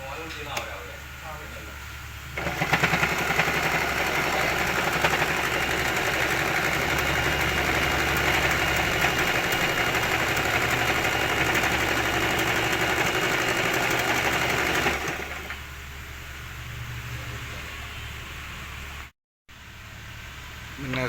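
A Singer Start 1306 sewing machine runs at a steady, even whir for about twelve seconds, close by, with a person talking quietly before and after it.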